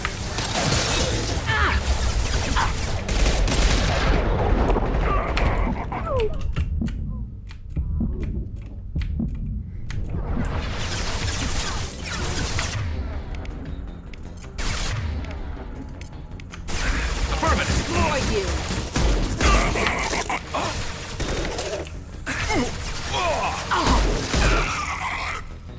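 Gunfire from Mass Effect 2 rattles in dense, sustained bursts with crashing impacts and mechanical clatter, loud and nearly continuous throughout, with brief lulls between volleys.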